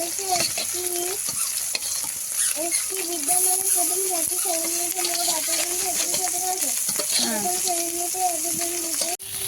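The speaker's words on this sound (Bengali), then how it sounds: "মাছগুলো এক প্লেট ভাজা হয়ে গেছে আর আরেক প্লেট দিচ্ছি" Fish frying in a pan with a steady hiss of sizzling oil throughout, while a voice keeps talking over it at close range.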